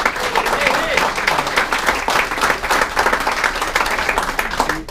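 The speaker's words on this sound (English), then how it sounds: "we certainly owe a real round of applause to the committee that put together" A reunion crowd at a dinner gathering gives a loud, sustained round of applause for the organizing committee, the clapping dense and close, with voices murmuring and cheering underneath.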